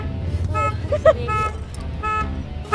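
A car alarm goes off on a beaten-up car offered for sale, short repeated horn-like beeps sounding under people talking.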